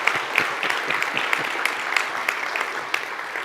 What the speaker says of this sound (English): Ron, would you stand up and take a round of applause from us?